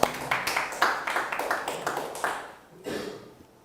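A church congregation at a Sunday worship service claps in a steady rhythm of loud, even beats. The clapping then thins out and fades, leaving a brief scattered burst at the end.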